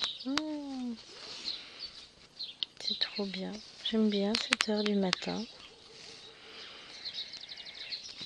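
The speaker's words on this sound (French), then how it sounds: "On entend le chant des oiseaux qui résonnent" Birds call and chirp in the early morning countryside, with a few short whistled notes at mid distance while someone speaks softly over them.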